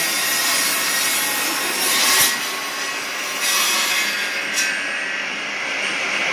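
Steady, continuous rasping of a saw working through wood while building beehives, loud and close, with a few brief swells in intensity and no talking.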